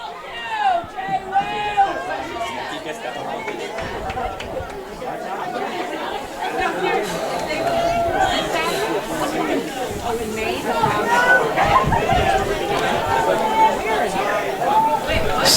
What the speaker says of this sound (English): I hope you guys can hear the crowd.